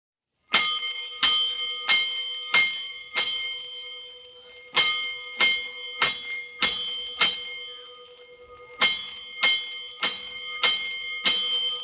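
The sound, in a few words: fire alarm bells in a 1949 radio drama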